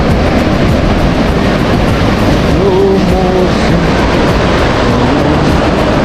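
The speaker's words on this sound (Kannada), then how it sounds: "ಅಲೆಗಳು ಜೋರಾಗಿ ಬರ್ತಾ ಇದೆ" Strong sea waves rolling onto the beach at Murudeshwar, a loud, continuous broadband roar of surf that fills the whole stretch without pause, with no talk over it.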